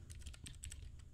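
Quick, steady keystrokes on a computer keyboard as someone types a web address, close and clear with no talking over it.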